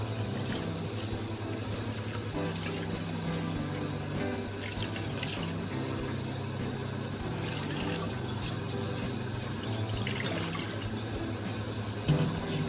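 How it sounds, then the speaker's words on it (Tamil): Water pours and trickles as soaked rice is tipped out to drain for making adhirasam, a steady continuous flow with a few drips near the end. "ஊறின பிறகு அரிசி இந்த மாதிரி தண்ணி உடைக்கிற இடத்துல ஊற்றி நல்லா வச்சுக்கணும்."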